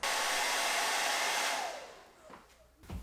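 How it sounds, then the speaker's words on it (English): A hair dryer used as a heat source on a DIY project blows loudly and steadily with a broad whooshing roar, then cuts off abruptly and winds down, leaving faint clicks. "so in my case the hairdryer"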